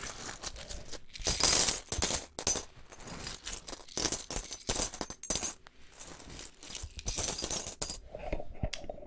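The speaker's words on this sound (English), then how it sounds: "my favorite bag, all my silver. All of my silver coins." A bag of silver coins is shaken in bursts, with bright metallic jingling and clinking in several loud, uneven rounds separated by short pauses.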